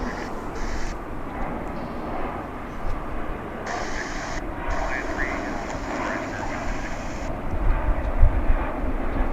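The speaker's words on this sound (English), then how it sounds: "That was an A320." A Spirit Airlines Airbus A320 jet passing at an airport, a steady airy engine rumble at moderate distance beneath a voice talking over it.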